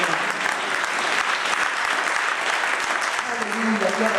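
A church congregation claps loudly and continuously in praise, a dense, steady wash of many hands with voices mixed in.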